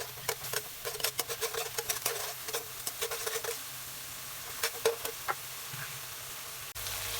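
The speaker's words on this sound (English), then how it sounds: "Putting chili paste and stir it well" Chili paste being stirred into coconut milk in a pan for an eel curry, heard as light irregular scrapes and taps of a utensil over a faint simmer, with quieter gaps toward the end.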